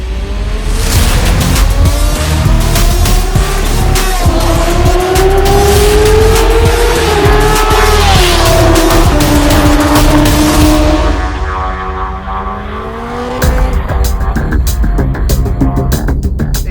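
A Kawasaki Ninja H2 motorcycle roars loud and close as it is ridden hard, its engine note rising and falling through the gears with a rough mechanical rasp and a brief dip before surging again.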